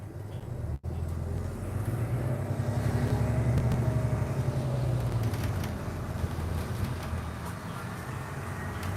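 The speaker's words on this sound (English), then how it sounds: "let's just hear the sound of the bus for now" Steady low engine drone of a moving New Flyer city bus, with road rumble and faint rattles throughout, no voices.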